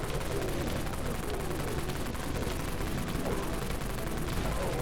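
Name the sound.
minigun firing in Dead Frontier video game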